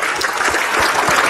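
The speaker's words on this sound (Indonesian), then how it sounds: "Tepuk tangan buat Kinos, luar biasa." Studio audience applause at an Islamic religious talk show, a steady dense clapping that fills the whole moment at even loudness, with no voices over it.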